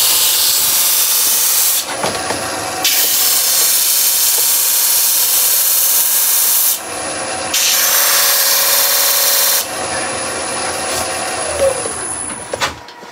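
A skew chisel cuts wood on a spinning lathe while a German smoker is being turned, producing a loud, continuous hissing shear in long bursts with brief gaps as the tool lifts off, close up.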